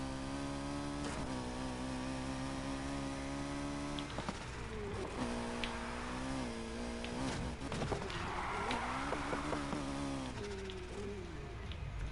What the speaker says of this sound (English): I think that engine's a little too loud